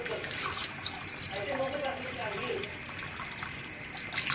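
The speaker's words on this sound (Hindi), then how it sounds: "अब मैं इसमें तकरीबन 2 गिलास पानी ऐड करूँगी।" About two glasses of water poured into a pot of meat for Afghani kabuli pulao, a continuous close splashing gush that runs steadily throughout, with no talking.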